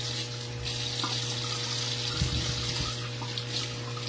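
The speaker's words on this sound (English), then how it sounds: "I always wash my pickles." Tap water runs steadily into a sink while pickles are washed, a soft continuous splash over a low electrical hum, with faint handling sounds and no talk.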